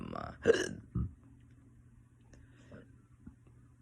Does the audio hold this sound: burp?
yes